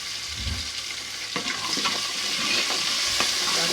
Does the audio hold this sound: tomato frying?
yes